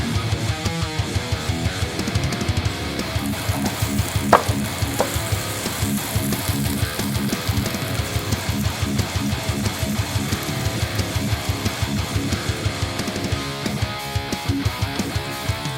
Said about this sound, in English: we can hear and smell the garlic starting to smell fantastic and it's starting to sizzle